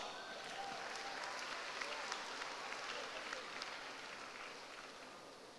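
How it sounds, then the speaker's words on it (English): A debate audience at the World Scholar's Cup Hanoi Global Round 2017 junior debate showcase applauds the third affirmative speaker, a dense, steady patter of many hands that holds for several seconds before easing slightly. "Give him a big round of applause"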